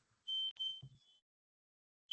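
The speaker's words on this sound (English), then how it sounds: "No, that's my smoke alarm." A home smoke alarm chirps a short high-pitched beep, then a second beep, then a third at the end. Each is clear and fairly loud, with a brief low thump between them in a quiet room.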